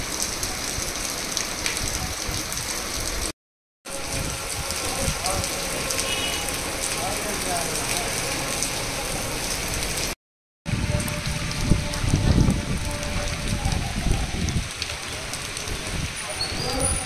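Heavy rain with gusty winds pours down steadily in a dense, constant hiss of drops on surfaces, broken by two brief gaps, with faint background voices under the downpour.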